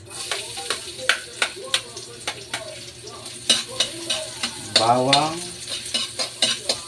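Garlic sizzles and crackles in a hot pan for a home-cooked mung bean dish, with repeated clinks and scrapes of a spatula stirring, and a brief voice breaking in near the end.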